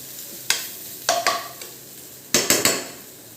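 Poha with vegetables being stirred in a pan, a spoon scraping and knocking against the metal in several sharp clattering strokes, close and loud, with no talking.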